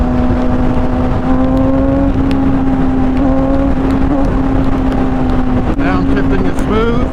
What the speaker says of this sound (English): Downshifting is smooth.